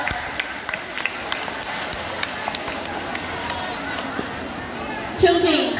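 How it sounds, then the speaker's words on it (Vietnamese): Applause from a school assembly at the 2019–2020 opening ceremony of Tả Thanh Oai lower secondary school: steady, dense clapping from a large crowd that swells louder at the end. "Xin mời toàn trường chúng ta hãy nổ một tràng pháo tay để cổ vũ các tiết mục văn nghệ vừa rồi ạ"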